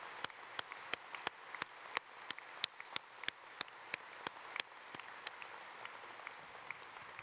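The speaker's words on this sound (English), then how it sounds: "Can we have another round of applause for the multi-agency honor guard and Sergeant Swanson?" Sparse, distinct claps ring out at a steady rhythm during a police conference opening ceremony honoring an honor guard and a sergeant, each sharp hand strike separate and fairly faint against a quiet hall.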